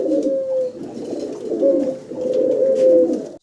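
Female Lahori pigeons of blue barless colouring coo in close, soft, repeated rolling calls that carry throughout the short stretch, with no voices over them.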